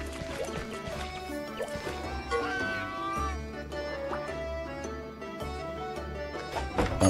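A cat meows inside the video game Monster Hunter Stories, with a few short mewing calls heard over steady game music and background ambience.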